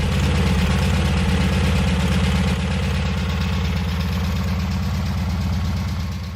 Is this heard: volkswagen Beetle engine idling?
yes